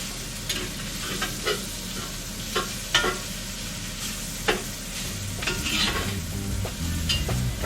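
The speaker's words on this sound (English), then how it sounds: "Alright, we're going to let this stir fry for a little bit" Stir frying for a Cajun pork jambalaya, a continuous sizzle with a low rumble beneath and intermittent spatula scrapes and knocks against the pan, no one speaking.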